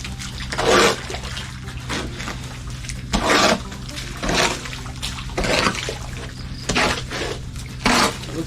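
Water pours and trickles into a mound of cement mix in a dry-mixed volcano, with a steady wet splashing broken by several louder surges of flow, close and without talk.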